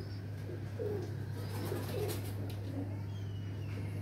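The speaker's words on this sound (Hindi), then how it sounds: "बड़े कबूतर का, जाक का" Large Jacobin pigeons coo in soft, low rolling calls, several overlapping phrases nearby but faint, over a steady electrical hum with little else around.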